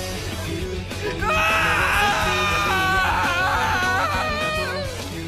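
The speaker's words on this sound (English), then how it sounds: "listening to Ishimaru's heart-wrenching screams" Anguished screaming from a video game character fills the clip, a loud, sustained wailing cry with wavering pitch over a steady low background of game music or ambience, with no talk.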